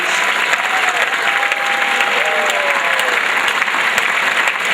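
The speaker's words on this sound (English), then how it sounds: "Let's give another round of applause to Governor Sebelius for that amazing speech." Loud, dense applause from a high school audience fills the room after Governor Sebelius's speech, sustained and even, with faint voices mixed underneath.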